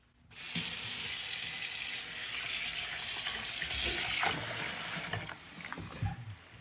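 Tap water gushes loudly into a sink while seitan dough is rinsed, a steady close rush that starts abruptly, runs about five seconds, then cuts off into softer splashing and dripping.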